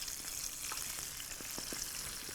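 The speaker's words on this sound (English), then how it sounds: "when you're frying livers" Oil hisses and crackles steadily as chicken livers deep fry, with scattered sharp pops over a constant sizzle.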